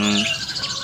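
Birds chirp and call together inside a large aviary, a steady bright chatter of overlapping tweets with a low cooing note at the start, close and continuous.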